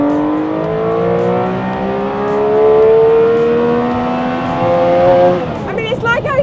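A Tuthill Porsche 911K engine revs hard on a track, rising in pitch through a long climb before a gear change, loud and close inside the car.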